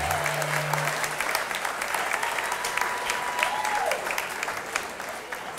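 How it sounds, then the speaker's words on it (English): Concert audience applauding steadily throughout at a boogie woogie homecoming concert in Marshall, Texas, a dense sustained crowd clapping with a brief tone fading in and out above it. "let's give Jack and the doc had a nice round of applause for putting this on."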